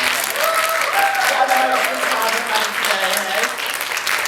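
A cabaret audience claps steadily and loudly throughout, a dense sustained wash of applause with some crowd voices mixed in.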